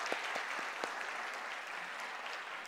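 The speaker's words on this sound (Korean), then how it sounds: "그렇게 임하신 우리 하나님께 영광의 박수 함께 올려드리겠습니다." A church congregation applauds after a choir's hymn at a Sunday service, a thick, sustained patter of many hands with a few sharper claps near the start, steady and unbroken to the end.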